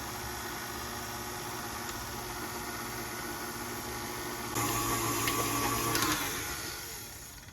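An electric mixer on its stir setting beats lemon cake batter made with cake mix and cream cheese, a steady close whirring hum that grows louder partway through and then tapers off.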